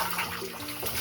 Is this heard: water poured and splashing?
yes